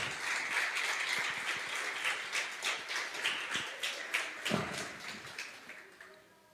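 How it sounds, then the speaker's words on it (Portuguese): A church congregation applauds in praise, with fast, dense clapping that gives way to slower rhythmic hand claps and fades out toward the end. "Você pode aplaudir o Senhor?"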